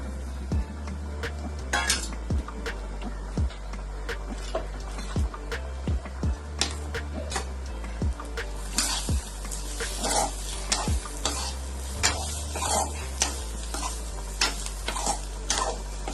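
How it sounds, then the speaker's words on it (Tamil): Steady frying sizzle of two medium tomatoes sautéing in a pan for country chicken curry, with repeated scraping and stirring clicks from a utensil, close up, no talking. "2 மீடியம் சைஸ் தக்காளியை சேர்த்து வதக்கிக்கோங்க."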